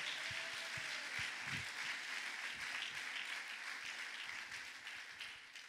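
A church congregation applauds in praise of Jesus Christ, a steady, dense wash of clapping that fills the room throughout and slowly thins toward the end.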